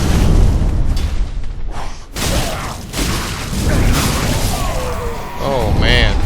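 Fire attack striking the player in Dark Souls 3: a loud roaring whoosh and crackling blast of flame, dense and continuous with bursts and impacts layered over game sounds.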